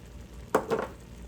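Buffalo chicken chili ingredients for a creamy crockpot recipe are stirred, giving two short, soft scraping swishes close by in an otherwise quiet kitchen, with no talking.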